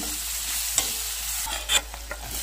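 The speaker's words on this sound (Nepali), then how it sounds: "हल्दी र नुन हालेर पनि एकछिन चलाइदिनुपर्छ हामीले" Vegetables with turmeric and salt are stirred in a hot pan, a soft continuous sizzle broken by a few scraping spatula strokes and light clinks, close and alone.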